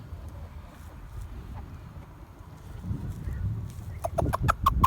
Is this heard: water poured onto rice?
no